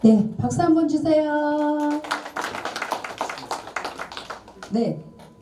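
Audience applause at a Korean singers' association chairman inauguration ceremony: a voice speaks briefly, then a crowd claps in a burst of scattered hand claps that fades out, with another short voice near the end.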